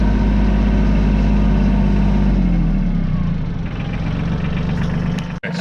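A tractor engine idles at a farm horse pen, a steady loud low rumble that holds for several seconds, ending with a brief sharp knock, with no voices over it.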